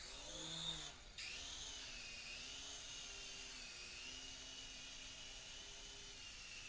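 Sky Rover RC toy helicopter rotors spinning up, a close, high-pitched electric whine that rises in pitch after a brief click, then holds steady.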